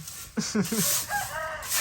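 Farm chickens close by: a few quick clucks followed by a short, drawn-out crow from a rooster.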